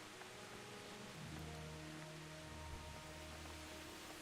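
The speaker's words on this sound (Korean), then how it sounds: "비가 오네." Rain falling in the medieval video game Kingdom Come: Deliverance makes a soft, constant hiss, with faint sustained musical tones running beneath it throughout.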